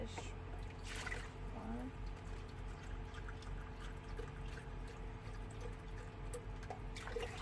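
Chicken broth poured into a pot for gumbo inside a truck, a quiet steady liquid trickle and splash running under a person counting aloud, over a low constant hum.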